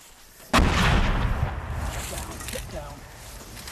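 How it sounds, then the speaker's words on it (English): An artillery shell lands nearby on the front line in Ukraine, a sudden loud blast followed by a rumbling, decaying roar, close and heavy, with people talking around it. "The shells begin to land all around us, only metres away."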